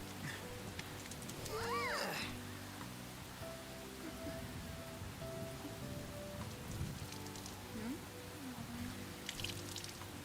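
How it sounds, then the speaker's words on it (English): Heavy rain in the video game Persona 5 Royal makes a steady, dense hiss throughout, with a voice heard briefly and faint tonal game sounds beneath. "The rain's a little heavy"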